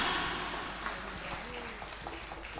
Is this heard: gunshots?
no